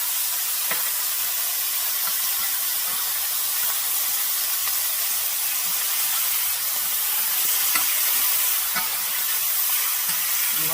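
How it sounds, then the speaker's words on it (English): Steak sizzles in a pan with butter, garlic and thyme, giving a loud, steady hiss and crackle of frying fat with scattered pops, heard close up without talk. "I'm going to go ahead and add the butter, garlic, and thyme to the pan"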